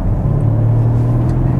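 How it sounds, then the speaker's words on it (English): A 2014 Audi SQ5 with a 3.0 V6 TDI diesel drives along, its engine a smooth, steady low drone filling the cabin at close range, loud and constant throughout without diesel clatter. "It never sounds like a clattery oil burner,"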